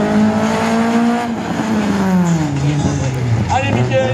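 A Citroën Saxo race car runs a slalom event at Agon-Coutainville, its engine droning loudly with shifting revs throughout. A voice commentates over it on a public address system.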